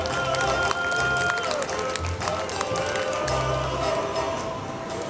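An outdoor festival crowd applauds a model in a Tongan costume, steady clapping heard over a busy background, with a voice speaking through it.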